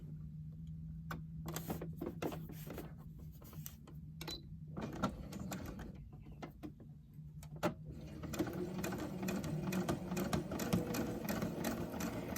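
Domestic sewing machine running steadily while stitching a fabric face mask over pins, its motor hum and rapid needle ticking continuous and close, growing busier in the last few seconds; no one talks.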